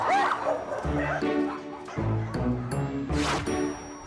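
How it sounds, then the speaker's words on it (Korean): Several dogs at a home where about 300 dogs are kept bark and yip excitedly, in repeated overlapping bursts with some whimpering, under a person's talk. "그런데 강아지들이 요란한 반응을 보입니다"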